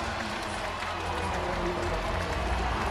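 A packed hockey arena crowd of over 18,000 in Washington roars after Alexander Ovechkin's record-breaking goal, a dense, sustained wall of cheering with no break.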